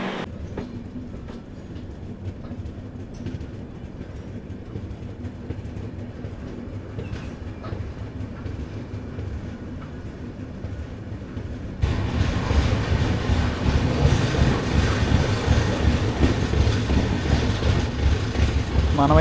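Garib Rath Express train rolling slowly through Penukonda Junction station on the Yesvantpur to Charlapalli route, with a steady rumble of wheels and carriages that grows louder and fuller partway through.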